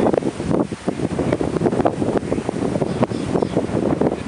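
Wind blows steadily across a beach on a windy day, a loud, rough, continuous roar buffeting the microphone, with possible surf mixed underneath.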